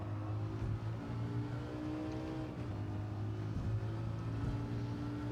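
A Lamborghini Huracan LP 610-4 races along the Tokyo Expressway in Gran Turismo 7, its engine holding a steady, humming drone with only slight pitch shifts, continuous and moderately loud with no talking.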